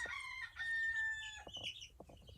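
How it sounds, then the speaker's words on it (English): Backyard chickens on a small homestead farm, close by and fairly quiet, give a drawn-out squawk followed by a few short clucks, with no talking. "Hi, my chickies."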